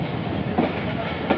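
A train rumbles steadily at Cant railway station in Karachi. A dense, loud rolling noise runs throughout with faint clacks.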